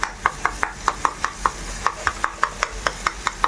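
Tomatoes are mashed in a pan with a spoon while masala macaroni pasta cooks, giving a quick series of about fifteen sharp taps and scrapes at close range in a fairly even rhythm.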